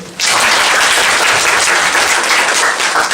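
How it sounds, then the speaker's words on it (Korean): Lecture-hall audience at a university landscape architecture talk bursts into sustained applause, a dense, steady wash of many hands clapping at close range for about three seconds with no talk over it. "박수 한번 칠까요?"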